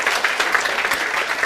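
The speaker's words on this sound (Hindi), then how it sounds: "जोरदार तालियां उसके लिए बेटा." A classroom of students claps together in a dense, steady round of applause, close and fairly loud, continuing evenly without voices.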